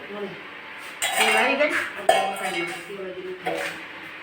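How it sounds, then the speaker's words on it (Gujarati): Metal pots, pans and cutlery clank and clink repeatedly in a village kitchen as spices are tempered in a pot for a brinjal curry, with sharp louder knocks among steady rattling close by. "તો હવે બા વઘારવાની પ્રોસેસ કરો ચાલો."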